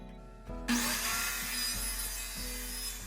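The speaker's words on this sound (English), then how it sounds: "that's gonna require me using the miter saw at a different angle" A miter saw cuts scrap wood at an angle for a holiday decoration, starting with a sharp burst and continuing as a loud, steady whining rasp through the board, with no talking.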